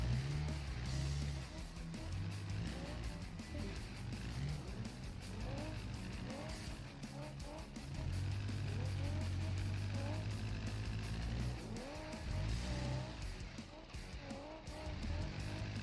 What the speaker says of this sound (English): brutal strength trying to push this car up through this notch